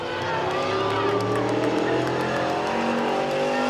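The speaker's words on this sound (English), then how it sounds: "Now that sounds like a muscle car." Muscle car engine roaring at a dirt speedway during heat races, a sustained loud, steady drone with a faint tire squeal, passing close.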